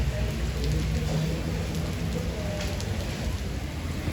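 Steady heavy rain patters and hisses on pavement in Alcudia, Mallorca, a continuous dense wash with no voices.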